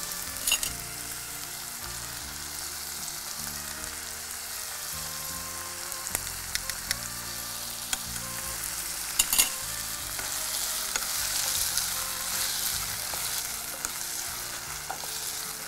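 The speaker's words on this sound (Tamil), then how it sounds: "அப்போ தக்காளி வதங்கும் போது உருளைக்கிழங்கும் ஓரளவுக்கு நல்லா வதங்கி வெந்து கொடுத்துரும்." Tomatoes and potatoes sauté in a pan for a kuzhambu, giving a steady close sizzle with occasional soft scrapes and clinks of stirring, alone and without talk.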